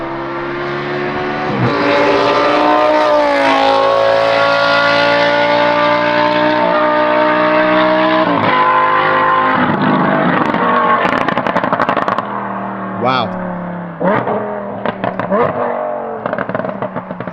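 A Lamborghini with an F1 exhaust revving loudly, a sustained high-pitched engine howl rising and holding for about twelve seconds before dropping into shorter throttle blips, close and dominant, with a brief spoken exclamation.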